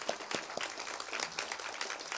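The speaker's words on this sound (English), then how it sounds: "I think we should have a round of applause for Kathryn." A crowd applauds at a student residence village opening in honour of a donor, a brief burst of dense clapping at moderate distance with a few sharper individual claps standing out.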